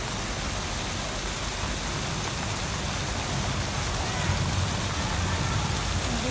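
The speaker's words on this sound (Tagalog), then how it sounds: "malakas ang ulan" Heavy downpour roars steadily and loudly throughout, a dense continuous wash of rain pouring down near a koi fish pond.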